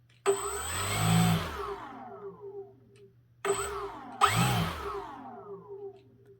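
The electric motor of a beginner RC plane, run indoors at low throttle, whines up and winds down in three short bursts, its pitch rising and falling with each spin.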